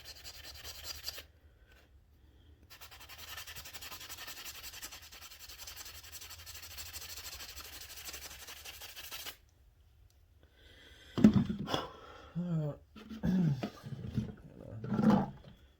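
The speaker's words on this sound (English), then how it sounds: "I'm going to sand that piece that's covered." Sandpaper of 220 grit rubbing over a homemade wooden crankbait lure, a steady close rasping for several seconds, then short separate strokes after a pause.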